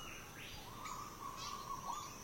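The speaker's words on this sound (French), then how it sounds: "Il n'est désormais plus rare de croiser le chemin d'un oiseau." A flightless bird in New Caledonia calls outdoors, giving a few thin, drawn-out whistling notes with a steady tone running through them, faint and moderately distant over a soft natural background.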